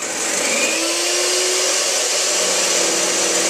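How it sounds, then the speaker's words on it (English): An electric whisk beats a mixture while Splenda sweetener is added, making a steady, loud motor whine that runs without a break. "So now you keep whisking it while you slowly add in the"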